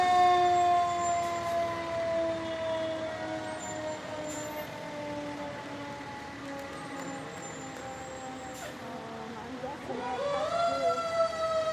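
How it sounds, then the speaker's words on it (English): Archbold Fire Department Engine 102 sounds its siren in a town parade, a long wailing tone that slowly falls and then rises again, heard from nearby over street noise and faint talk. "Archbold Fire Department Engine 102."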